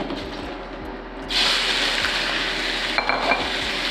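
Food frying in a pan, with a quiet rumble that jumps to a loud steady sizzle partway through and continues close up with faint stirring clicks.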